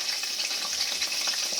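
Dry red chilies frying in hot oil in a pan in a traditional Bengali kitchen, giving a steady, close crackling sizzle with no talking.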